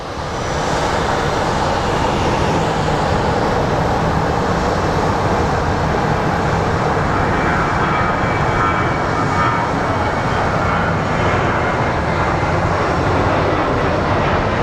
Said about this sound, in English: we have a WestJet getting ready to depart. And it's a WestJet 737 MAX